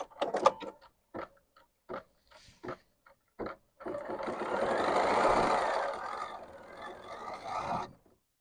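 A Bernina embroidery machine stitching free-standing lace: a few scattered clicks and taps, then a steady mechanical whirring hum of stitching that runs for several seconds before stopping.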